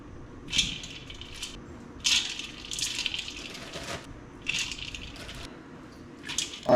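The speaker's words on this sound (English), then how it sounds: "Take about 3 cups of ice. Just enough water in there to cover the ice." About three cups of ice cubes clatter into a bowl of water while a sheepshead is being cleaned for cooking. Several separate bursts of rattling, clinking ice ring out at close range, with quieter sloshing between them and no talk.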